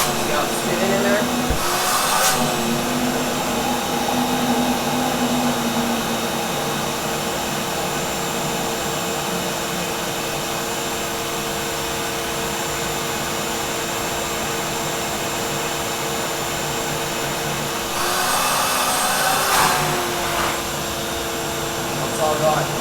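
A shop vacuum fitted with a Dust Deputy cyclone separator, set up for a blast cabinet, roars loudly and steadily, with brief louder surges of suction near the start and end.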